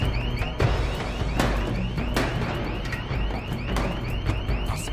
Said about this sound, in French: personne n'est foutu d'éteindre cette alarme